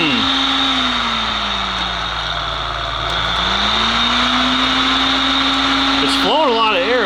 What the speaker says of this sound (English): It's flowing a lot of air, but it's not the best sounding fan I've ever heard.